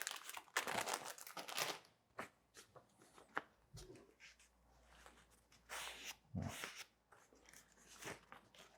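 A V60 paper coffee filter is handled and crinkled up close, irregular papery rustles and crackles in quick bursts with quiet gaps between, faint overall.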